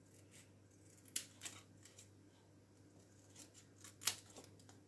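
Scissors snip around a paper label for a Christmas easel card, a few quiet, crisp cuts spaced out over a faint room background, with two sharper snips standing out.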